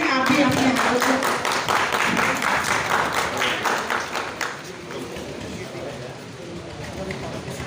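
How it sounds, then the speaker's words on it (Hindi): Hands clapping at a donation drive handing out football kits to needy recipients, a dense burst of applause that starts loud and eases slightly, with voices talking over it. "तालियां।"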